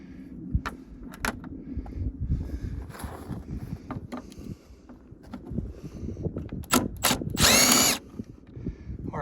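A Milwaukee power tool drives out the headlight bolts on a car, with scattered clicks and knocks of tool handling, then a loud whirring burst of the power tool running for about a second near the end.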